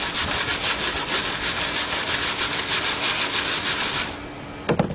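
A compost sifting tray is shaken by hand, rapid rhythmic scraping and rattling of material across the screen, loud and continuous for about four seconds before stopping with a couple of knocks.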